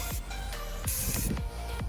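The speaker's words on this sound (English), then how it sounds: "Rinse the crap out of it." Water spray rinsing the engine bay of a Honda Civic EK hatchback, a close, continuous hissing gush with sweeping surges as the nozzle moves.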